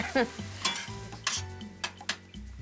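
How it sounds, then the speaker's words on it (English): Mushrooms sizzling in a pan for a pasta dish, a steady close fry punctuated by several sharp spoon-against-pan stirring clanks and scrapes, with no voices. "Okay, the mushrooms are cooking away."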